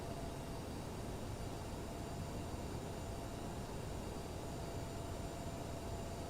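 Steady broadband roar of an Aerosoft CRJ airliner spooling up and rolling for takeoff on runway 26 in Microsoft Flight Simulator 2020, a constant loud engine and rumble noise with faint tonal whine, no talk.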